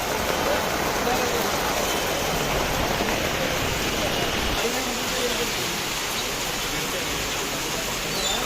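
Rain and wind at Mandangad: a steady, loud broadband rush of rain and gusting wind that holds throughout without a break, with no speech heard over it.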